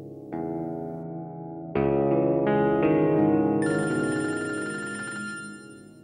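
A telephone rings after a call is dialed, a clear electronic ringtone in stepped repeating tones that swells and then fades slightly, heard alone without talk.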